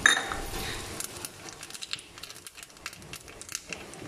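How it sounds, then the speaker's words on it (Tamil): Mustard seeds spluttering and popping in a small pan of hot ghee while tempering for lemon rasam, a scatter of sharp crackles and small ticks, close and fairly quiet, with no talk. "கடுகு நல்லா வெடித்ததும்"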